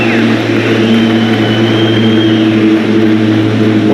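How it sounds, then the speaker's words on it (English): An airplane passing overhead during an outdoor Tesla Semi truck unveiling event, a loud, steady engine drone and whine that holds throughout. "wait for that plane."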